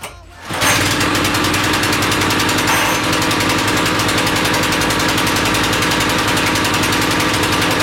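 A 123cc petrol motor tiller starts with the choke on after a brief quiet moment, then runs loud and close with a fast, even, chugging engine rhythm that holds steady.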